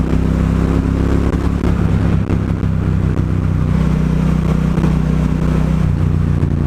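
Triumph Bonneville Bobber motorcycle ridden on a twisty road, its engine a steady, loud, close drone with low harmonic bands and little change in pitch throughout.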